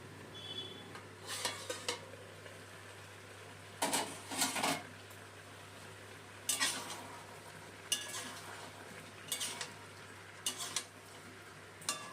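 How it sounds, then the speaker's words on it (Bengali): Chicken pieces, mixed vegetables and potatoes frying in a pot over raised gas heat, with intermittent bursts of scraping and clinking as a utensil stirs them, separated by quieter stretches of low background hum. "গ্যাসটা বাড়িয়ে দিয়ে ঢাকা দিয়ে মাংস সবজি আলুগুলো ভেজে নেব"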